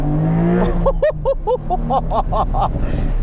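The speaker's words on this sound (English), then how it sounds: "This one here has the manual, the 7-speed manual, which includes active rev matching. Listen to the sound of that, guys." A 2022 Porsche 911 Targa 4 GTS with the 7-speed manual gearbox and active rev matching, its engine rising once and then snapping through a quick series of loud, close revving blips.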